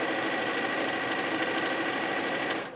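A sewing machine top stitching a fabric book with red thread, running in a loud, steady, close whirring hum that stops at the very end.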